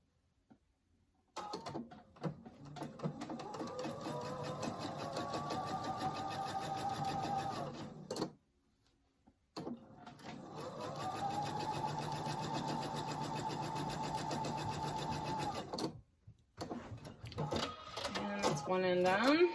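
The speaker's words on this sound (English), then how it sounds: "I'm going to sew the left side on first" A sewing machine runs in two long, steady bursts while stitching a quilt block, with a pause between them and softer mechanical clicks at the end, close and fairly quiet with no talk over it.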